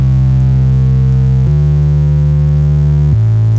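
Future bass mid and sub bass playing without sidechain pumping, steady sustained tones changing pitch twice, loud and dry with no voices.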